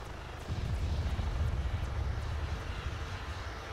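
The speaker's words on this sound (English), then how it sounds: "Is that a friendly jet? We have a friendly jet, yes." A friendly jet aircraft in the military video game Arma 3 passes overhead as a steady, low, broad engine roar, holding loud and even throughout the short stretch.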